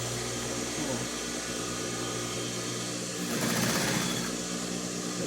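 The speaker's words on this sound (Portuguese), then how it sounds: "Vou terminar aqui de costurar." A sewing machine runs continuously while stitching fabric, a close, steady whirring drone that briefly grows louder partway through.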